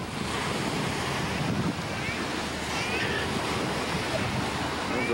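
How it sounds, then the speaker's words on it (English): Constant roar of surf washing onto a shore at Long Beach, Singapore, mixed with wind buffeting the microphone, loud and unbroken throughout. "See the waves brushing up on the shore here."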